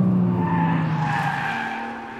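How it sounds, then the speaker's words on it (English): A Nissan GT-R Track Edition with a V6 engine accelerates on a race track, giving a loud, angry, rising engine roar with tire scrub that tapers off as it passes. "this V6 is maybe not the most sonorous engine in the world, it just sounds angry when you get on it"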